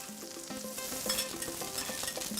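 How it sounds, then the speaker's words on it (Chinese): A crab dish fries on an iron griddle while a spatula scrapes hard against the metal. Steady loud sizzling is broken by rhythmic scraping and stirring strokes, close up, with no talk. "煎的时候刮铲一定要用力，就是贴着那个铁板，用力的铲上来，它才不会粘锅。"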